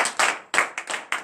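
A congregation at a Beninese morning prayer service claps hands in praise, giving about five loud, close, rhythmic claps in a brief burst.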